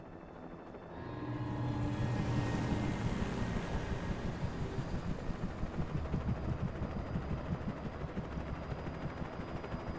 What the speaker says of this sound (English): the crows just took out the helicopter.